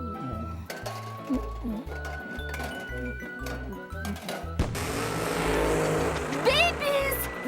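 Cartoon car engine revving after being fixed, rhythmic chugging pulses that build into a louder sustained roar with clinks and voices over it.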